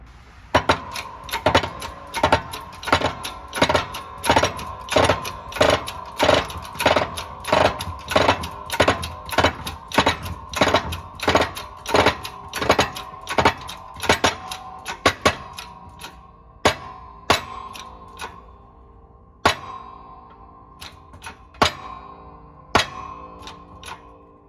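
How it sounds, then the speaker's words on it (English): Hydraulic press forcing wheel hubs into a Honda Civic steering knuckle: a long run of sharp, evenly spaced clicks and ticks, steady at first, then turning sparser and irregular toward the end, loud and close with no talking. "time to press in the hubs"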